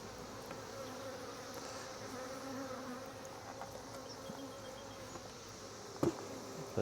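Honeybees from a hive that has been opened and disturbed, a faint steady drone of many buzzing wings with a few closer passes and a soft knock near the end.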